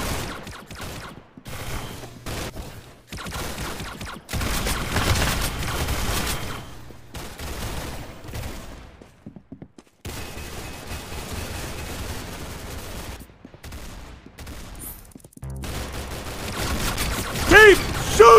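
Gunfire in the Arsenal video game comes as bursts of rapid shots broken by brief silent gaps, loud and close, with a voice talking over parts of it.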